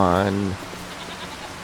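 A goat in the Farming Simulator 25 video game lets out one wavering, quavering bleat lasting about half a second, fairly close and loud, followed by a soft hiss of rain-like background noise.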